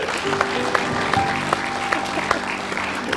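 Studio audience applause on an Indonesian TV talk show for a young guest named Cika, steady clapping with sharp individual claps standing out and a faint tonal sound running underneath.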